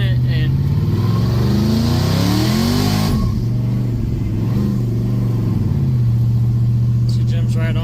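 Supercharged LS-swapped Chevrolet C10 engine revving loudly nearby, rising in pitch then dropping back to a steady idle-like drone, with a voice speaking over it.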